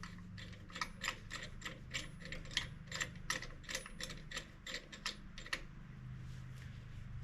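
A ratcheting tool is tightened slowly to press back the front brake caliper piston on a 2008 Ford Escape, giving a series of close, crisp metallic clicks in an uneven rhythm that stop near the end.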